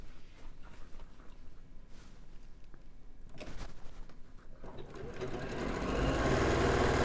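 A sewing machine runs and stitches fabric seams in a sewing studio. The motor whirs steadily and gets louder toward the end, with faint sounds of people in the room behind it.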